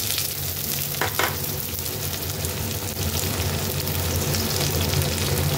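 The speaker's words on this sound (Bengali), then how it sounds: "পেঁয়াজটা একটু ভাজা ভাজা করবো, অল্প একটু ভেজে নিলে তাহলে একটু পেঁয়াজের যে কাঁচা গন্ধটা সেটা আসে না" Chopped onion sizzles in a hot pan over black cumin seeds for a Bengali jhinge posto dish, a loud continuous crackling fry with a couple of quick clatters early on and no talking.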